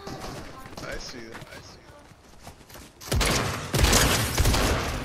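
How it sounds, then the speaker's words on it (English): Gunfire in Fortnite comes through as thumping shots and impacts that grow loud and dense in the second half, with a player talking over the earlier part. "I'm getting shot at, by the way."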